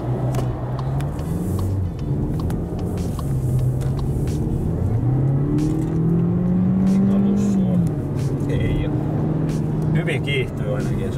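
A front-wheel-drive car accelerating on a test drive, its engine drone rising steadily in pitch inside the cabin, with people talking over it throughout.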